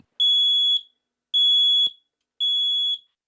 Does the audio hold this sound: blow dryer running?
no